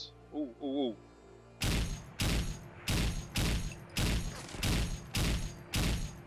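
Rapid explosions and gunfire from the video game Fallout 4 ring out as eight evenly spaced loud blasts, each followed by a short decay, after a brief rising electronic tone at the start.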